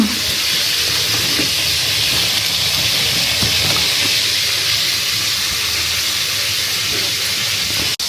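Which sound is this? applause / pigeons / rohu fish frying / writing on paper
rohu fish frying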